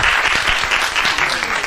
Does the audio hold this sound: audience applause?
yes